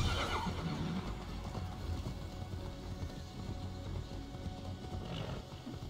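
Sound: horse galloping and neighing in video game Immortals Fenyx Rising

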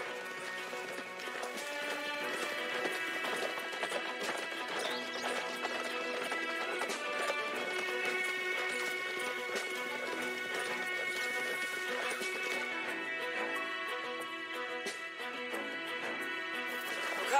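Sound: horses trotting in video game Red Dead Redemption 2

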